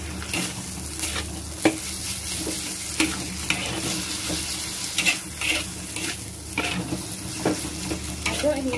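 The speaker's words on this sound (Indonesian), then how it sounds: "Aduk hingga tercampur rata" Seasoned chicken filling for lemper, with coriander, salt, pepper, chicken powder and sugar, is stirred in a hot pan: rhythmic spatula scrapes and knocks over a continuous low sizzle, close and alone.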